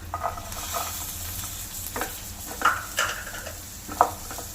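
Carrots go into a sizzling pan for quinoa chicken fried rice, a steady close frying hiss with several sharp scraping stir strokes and utensil clicks spaced through it, no voices.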